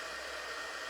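A small heat gun blows hot air, a steady, even rushing hiss at close range with no pauses and no voices.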